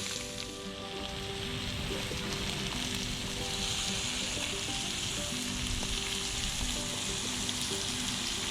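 Steaks sizzle and crackle steadily on a hot grill, a dense continuous frying hiss with scattered pops, close by and without talk.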